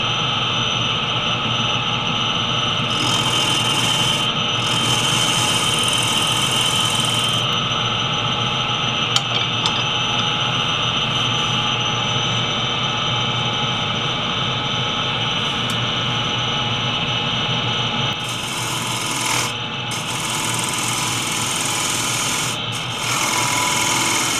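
Mesquite wood being turned on a lathe with a full gouge at about 1300 rpm, giving a continuous loud whirring drone with steady scraping and cutting noise, briefly shifting as the tool engages and lifts.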